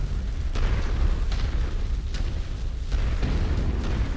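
Explosions in a real-time strategy video game as a target is destroyed. Several dull booms and bursts rumble in steady succession at moderate loudness with no talk.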